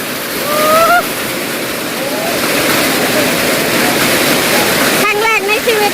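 Heavy rain pouring down in a dense, continuous roar, with a voice speaking briefly over it near the start and again toward the end.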